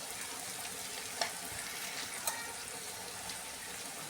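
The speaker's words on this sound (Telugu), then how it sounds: "ఆయిల్ బాగా హీట్ అయ్యాక ఇందులోకి ఇప్పుడు మనము ఆనియన్, పచ్చిమిర్చి వేసేద్దాం" Onions and green chilies fry in hot oil for a tomato and small-fish curry, giving a soft, steady sizzle with a couple of brief crackles and pops, quiet and close with no talking.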